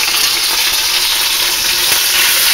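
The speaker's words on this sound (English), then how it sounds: "It's really going to town with the sizzle." Chicken thighs fry in a pan with a dense, steady sizzle that stays close and continuous from start to finish, with no talking.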